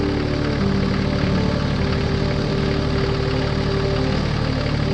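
A red tractor and a yellow backhoe loader with engines running near a farm while clearing ground for a new hen coop, giving a loud, steady, close rumbling drone throughout.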